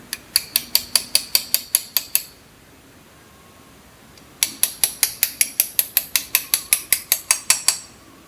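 Look cleat pedal parts being gently tapped back into place through a tube during a pedal overhaul: quick, evenly spaced metallic taps in a burst of about ten, a short pause, then a longer run, close and clear.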